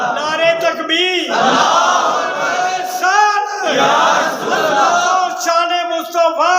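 A large crowd at a religious gathering roars a takbir slogan response in unison, loud, drawn-out bellowed voices rising in a few surging waves with brief gaps between them.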